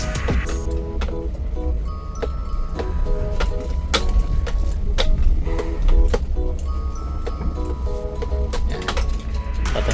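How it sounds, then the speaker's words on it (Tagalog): Car keys jangle in the ignition of a DA17V 4x4 semi-wagon crawling over potholes off-road, giving irregular metallic ticks and rattles over a constant low engine and cabin rumble. "Yung susi lang talaga maingay eh."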